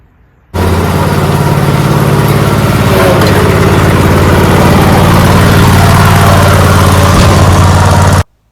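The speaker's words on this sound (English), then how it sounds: "Generac generator runs great. Very quiet, too." A Generac GP3250 portable generator engine running steadily after starting abruptly, a loud, close, even drone with a strong low hum that holds for about eight seconds before cutting off sharply.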